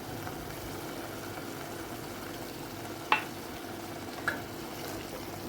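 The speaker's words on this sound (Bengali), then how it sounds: "এই অবস্থায় আমি বাকি যে আদা রসুনের পেস্টটা ছিল সেইটা দিয়ে দেবো।" Onions frying in a pan with ginger-garlic paste for chicken rezala, giving a steady low sizzle throughout with two brief sharp clinks of a utensil being stirred against the pan.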